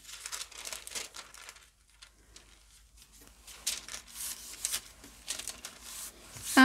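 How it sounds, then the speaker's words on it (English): Tissue paper is crinkled and peeled from a paint-coated gel printing plate, a soft papery rustle in bursts that is close but quiet, with short pauses between. "going to take my piece of tissue paper"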